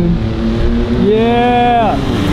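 Ford F-150 Raptor pickup trucks drag race on a beach, one engine revving loudly and climbing in pitch before dropping off as it shifts, with speech-like noise underneath.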